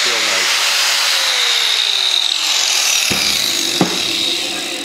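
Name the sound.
saw cutting tile for a shower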